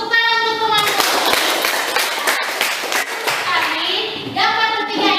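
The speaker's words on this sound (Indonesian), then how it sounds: "Tepuk tangan untuk teman-teman." Classmates clap for one another in a classroom, a dense patter of hands with children's voices and singing-like tones over it, fairly close and steady for about five seconds.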